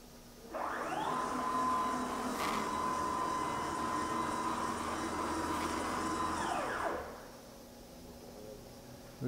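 A CNC router spins up its spindle with a rising whine that holds a steady high tone for several seconds, then winds down, over the broad whoosh of a 25 horsepower Baldor blower running throughout.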